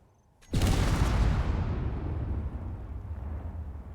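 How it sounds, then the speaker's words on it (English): Twenty-seven small grid warheads detonate together in Space Engineers, a sudden loud blast that hits after a quiet moment and then rolls on as a long, heavy rumbling roar that slowly fades. "Another explosion of 27 small grid warheads"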